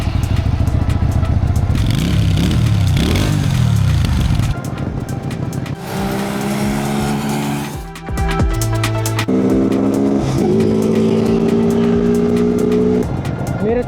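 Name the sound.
Morbidelli C252V motorcycle engine at night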